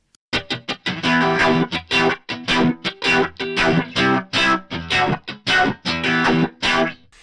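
Electric guitar through a filter effect, short chopped chords played in a steady rhythmic pattern with clear gaps between each stab.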